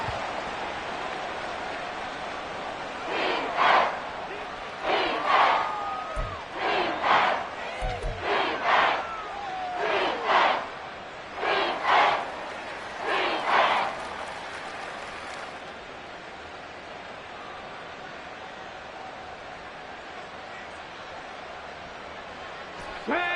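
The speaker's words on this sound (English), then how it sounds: "The Arrowhead crowd in full roar." A football crowd roars at Arrowhead Stadium in Kansas City, a loud sustained din of cheering that swells in repeated rhythmic surges under play-by-play talk.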